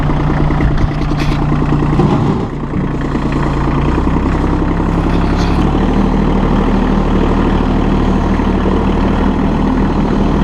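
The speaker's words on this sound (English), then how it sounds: "The power of the loader at idle speed." The diesel engine of a Massey Ferguson 1526 Hydro compact tractor idles with a steady, loud, close-up clattering throb, while the loader is worked at idle speed. A brief dip in the engine note comes early on.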